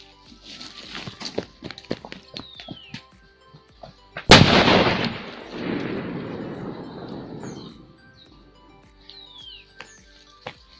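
Anar firecracker at Diwali bursting with one sudden loud bang, then a few seconds of hissing, crackling spray that fades away, after light scattered clicks and taps.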